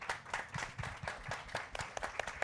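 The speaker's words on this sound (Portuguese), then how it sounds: "Então, eu queria pedir uma salva de palmas para todos." An audience gives a round of applause at a community gathering in Araxá, fairly close, uneven clapping in quick bursts for a couple of seconds.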